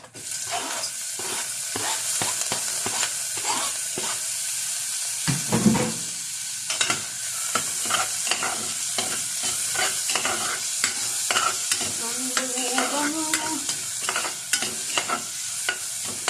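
Onion sautéing in a pot of hot oil at the start of a chicken tinola, a steady close sizzle and crackle with frequent stirring scrapes and clinks throughout, no voices.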